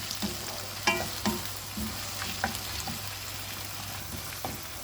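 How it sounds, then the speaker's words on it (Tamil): Tomato sizzles and fries in a pan as it is stirred, a steady soft crackle broken by a few sharper scraping clicks from the spoon, close and quiet with no talking. "தக்காளி நல்லா வதங்கணும்."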